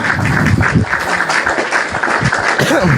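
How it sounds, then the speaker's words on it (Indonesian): A small group gives loud, close applause, a brief scatter of claps with voices talking over it. "Keren. Tepuk tangan."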